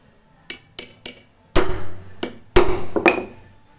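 A chisel is struck several times to punch holes through a sandal wedge upper: three quick sharp taps, then heavier blows with scraping and short rustling between them, close and clear with no talking.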